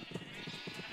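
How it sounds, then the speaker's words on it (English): Sheep bleating in the Minecraft video game, a short run of blocky game bleats close up over a steady background hum, with no talk. "He's the special sheep in the flock, the black sheep"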